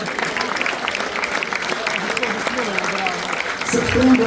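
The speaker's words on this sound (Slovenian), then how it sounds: "zdaj vam velik aplauz" Audience applause for a speedway rider marking thirty years of racing at Krško, steady clapping from a crowd while someone speaks over it through a loudspeaker, swelling slightly toward the end.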